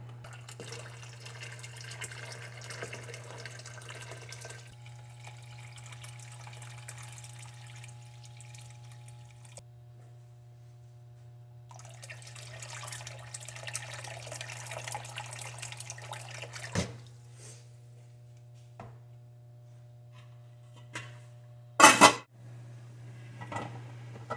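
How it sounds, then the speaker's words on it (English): Water running from a tap into a pot of blueberries, a steady rushing pour that swells and eases for about twenty seconds, ending with a few brief clatters and knocks; no talking. "So we're going to cover this with water, and then we'll let it heat up."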